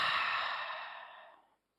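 A single long exhale during yoga breathing practice, a soft airy breath out that starts strong and fades over about a second and a half before ending in silence.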